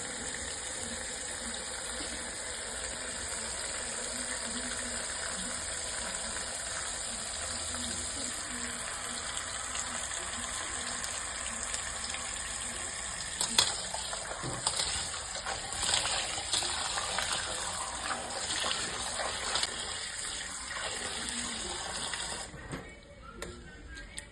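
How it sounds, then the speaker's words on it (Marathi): Fresh spinach is rinsed in a basin of water, with steady sloshing and splashing and occasional louder handling splashes, close and continuous throughout. "पालक स्वच्छ धुवून घ्यायचं"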